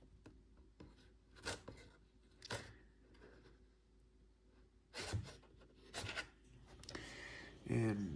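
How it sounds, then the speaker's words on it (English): A knife slices through packing tape on top of a cheap flip phone box, with several short, dry scraping and ripping strokes, close and fairly quiet, spread across a few seconds. "I'm gonna cut the tape at the top."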